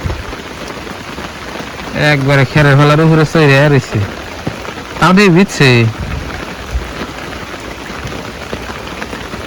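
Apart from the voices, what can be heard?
heavy morning rain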